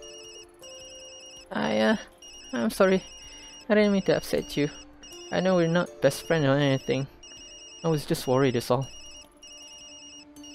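Repeating electronic phone ringtone in the video game Tokyo Dark, a steady tonal chirping pattern running underneath a character's spoken dialogue throughout.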